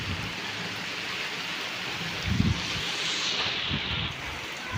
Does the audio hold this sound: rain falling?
yes